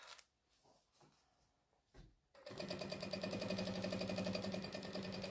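A sewing machine backstitches a strip tote made from jelly rolls, starting abruptly after a few quiet handling sounds and then running in a steady, fast, close mechanical chatter.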